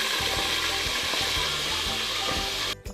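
Fish fries in hot oil inside a covered wok, a dense continuous sizzle and crackle with scattered popping, close and loud until it cuts off abruptly near the end.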